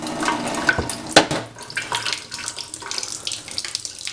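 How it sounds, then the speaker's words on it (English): A water tap running at its smallest trickle, giving a close, steady splashing and dribbling with a few sharper drips, alone without voices. "I actually use the tap on the smallest trickle that you can get"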